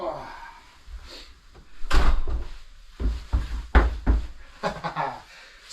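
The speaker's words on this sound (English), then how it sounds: "put the bike away, shut the door" After a bike is put away, a door is shut with a few solid thuds and knocks and some rustling handling noise, while someone talks over it.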